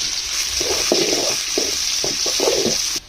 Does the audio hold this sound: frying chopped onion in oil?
yes